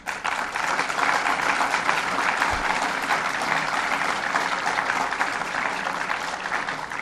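An audience fills a room at Buffalo's Albright-Knox Art Gallery with dense, steady applause for Governor Cuomo's announcement. The clapping is loud and unbroken for about seven seconds and fades slightly at the end.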